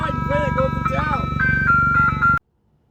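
An ice cream truck jingle plays a bright, tinkling melody over a low rumbling engine, loud and close, cutting off abruptly into silence near the end.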